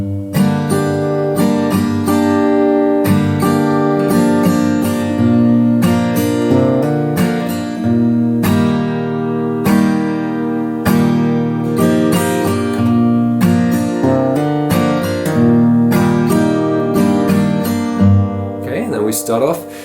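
An acoustic guitar plays the intro chord progression of a song, strummed chords ringing out clearly and continuously with a steady rhythm, close and loud.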